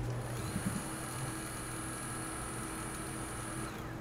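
A coffee grinder spinning at a set 2500 RPM gives a steady, continuous high mechanical whine with motor hum, running evenly for about four seconds with no talking.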